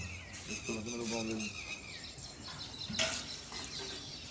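Several birds chirp and call in quick repeated notes while a person talks over them.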